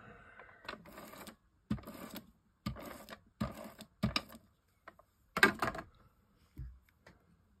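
A tape runner dispensing adhesive tape in crafting, heard as a series of short, separate clicking and rasping bursts up close, with quiet gaps between them and no talking.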